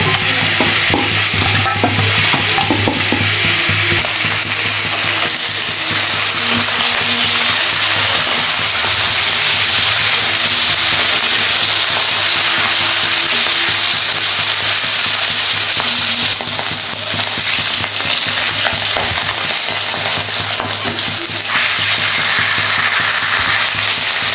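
Beans and potatoes seasoned with turmeric and salt being stirred in a pan, giving a continuous close frying sizzle with scraping stirs throughout and no talking.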